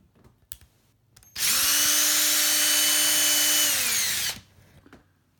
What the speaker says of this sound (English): So right now I'm going to drill that pilot hole